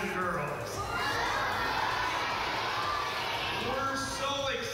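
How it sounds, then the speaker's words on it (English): A crowd of children and adults at an elementary school fire-safety event cheers and claps for a child, a steady, fairly faint wash of noise lasting several seconds. "Let's give Jake a round of applause."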